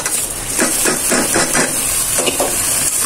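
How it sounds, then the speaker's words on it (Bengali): Polao rice being fried with onions in a pan, a steady close hiss of sizzling with rhythmic scraping strokes of a stirring utensil, no voices. "চালটা ভালো করে ভাজলাম, লাল লাল করে ভাজার পরে"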